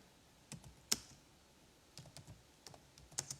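Sparse keystrokes on a computer keyboard while code comments are typed, a handful of separate clicks with pauses between them, one sharper tap standing out, close and quiet with no voices.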